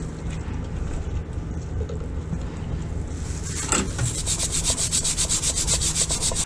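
A Honda Bros (Hawk GT) motorcycle chain is scrubbed with diesel, close rough rubbing and brushing that turns into quick rhythmic back-and-forth strokes in the second half.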